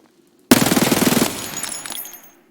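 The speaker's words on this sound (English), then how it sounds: "I decided to try out the full auto Glock here." A full-auto Glock firing in Escape from Tarkov on the Reserve map: one loud, rapid burst of about a dozen shots, then a fading echo tail.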